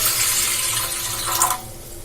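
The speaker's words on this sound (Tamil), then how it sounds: "இதுல வந்து கொஞ்சமா தண்ணி ஊத்திக்கலாம்." Water is poured into a cooking pot sitting on a stove. A close, steady splashing rush lasts about a second and a half, then cuts off abruptly.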